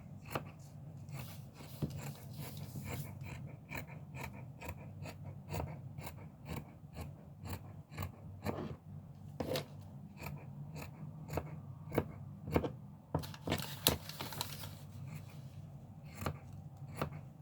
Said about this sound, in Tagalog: medyo mapurol ang aking gunting